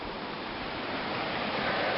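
Steady broadband rush of a river flowing at the gateway to a canyon over coarse rocks, continuous and fairly loud with no voices.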